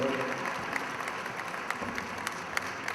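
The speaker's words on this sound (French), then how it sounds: "Applaudissements, s'il vous plaît" Evening audience at a speech by the president of the CCDB applauding, a steady dense wash of clapping from a crowd, fairly faint and distant throughout.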